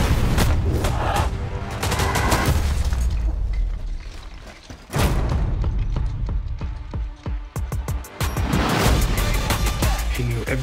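Movie trailer gunfire in an action thriller: rapid volleys of shots and sharp booms layered over music and dramatic effects, loud and dense, with brief spoken lines mixed in.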